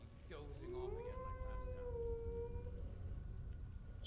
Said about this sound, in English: Had enough of these fucking wolves.